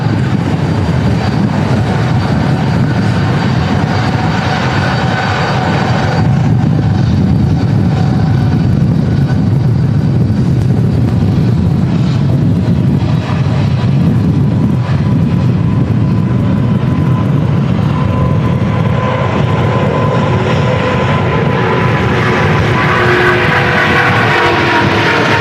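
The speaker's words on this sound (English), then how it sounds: "A350 900 now lined up and ready to depart." An Airbus A350-900 departs in strong storm crosswinds at Manchester Airport, a loud sustained jet roar with rumbling wind buffeting that builds and shifts in tone as the aircraft powers down the runway.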